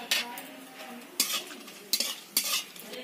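Whole cardamom, cinnamon and cloves dropped into hot oil with dried chilli and bay leaf for a chicken curry, giving a steady sizzle broken by several sharp clinks of a spoon stirring against the pan.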